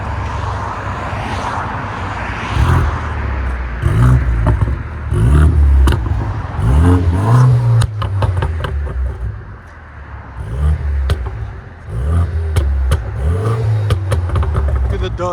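A 2014 BMW 228i with a 2.0L turbo, downpipes and Dynomax Race Bullets exhaust revs repeatedly. Its loud, rhythmic revs rise and fall, each followed by crackling burbles, close by outdoors.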